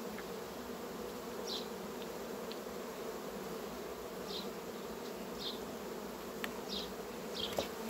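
Honeybees at a hive give a dense, steady buzz of many insects close by, with occasional individual bees zipping past nearer the ear.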